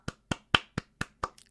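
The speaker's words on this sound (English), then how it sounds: "Golf claps for the boys." Six light, evenly spaced hand claps ring out close and clear in a quiet room, a slow golf-clap rhythm with a faint softer tap trailing after the last one.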